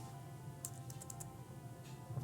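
Typing on a computer keyboard while setting up a PC-98 game translation: a few quick, faint key clicks in a short cluster, then one or two more, over a quiet background hum.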